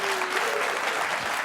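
A studio audience claps and cheers in a short, dense burst of applause that stays loud and even throughout the moment.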